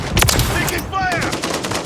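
Rapid gunfire from the video game Modern Warfare 3 crackles in dense, loud bursts of shots over about two seconds, with a faint game voice mixed in.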